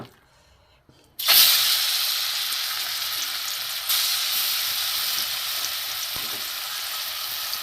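Mashed boiled brinjal and grated potato drop into a hot pan at about one second, setting off a loud, steady sizzle that stays dense and unbroken to the end with a brief surge partway through.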